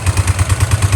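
A motorcycle engine idles steadily on its own, ticking over with an even low pulsing rhythm after carburettor and ignition work, close up in a smoky room.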